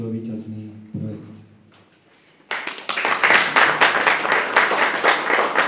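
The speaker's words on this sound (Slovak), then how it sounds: "Zaslúžite si, pani poslankyne, pani poslanci, vy veľký potlesk" Applause from the audience at an architectural design exhibition for a new Zvolen swimming pool, a burst of many hands clapping that starts suddenly after someone speaks and carries on steadily, loud and close.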